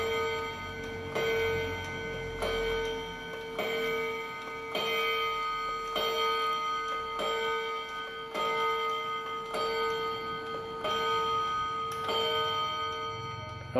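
A Seiko mechanical pendulum clock in a wooden case strikes eleven o'clock, its chime notes ringing out one after another at an even, unhurried pace, close and clear, with each tone hanging on into the next.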